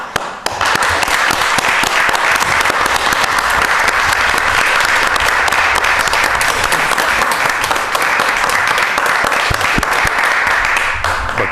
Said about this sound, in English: So I want, hopefully everyone, a round of applause.